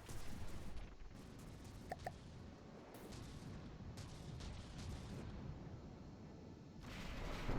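Ship weapons in a space video game fire a burst that sounds as a dull, rumbling boom-like roar, with a few faint blips and layered low engine noise.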